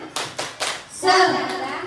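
Group hand-clapping in a rhythmic school cheer at an Indonesian teachers' gathering: three sharp, evenly spaced claps, then voices chanting along in a busier burst.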